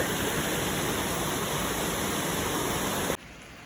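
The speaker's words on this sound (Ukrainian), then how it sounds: "Маленький водоспадик." A small waterfall in a forest gives off a steady, full rushing wash of water, close and continuous, with no voices, until it cuts off abruptly near the end.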